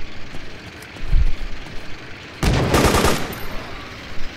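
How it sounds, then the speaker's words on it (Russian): Loud burst of machine gun fire in a Battlefield video game, a rapid rattling volley lasting about a second after a brief low thump, with faint background ambience. "Там пулемет оттуда, блин."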